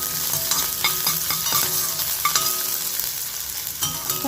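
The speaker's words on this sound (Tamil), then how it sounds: "வெங்காயத்தை சேர்த்து நல்லா வதக்கிக்கலாம் வெங்காயம் நல்லா பொரியட்டு" Onions sautéing in a pan for a bean and potato fry, with a steady close sizzle and repeated scraping stirs from a spatula over roughly four seconds, with no talking.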